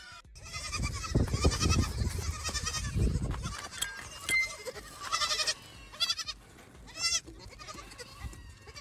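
Several goats bleat in quick succession, overlapping wavering cries close by, with some low rumbling handling noise early on and short pauses between calls.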